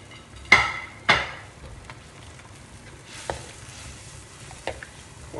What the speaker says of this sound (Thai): แล้วก็คนครับผม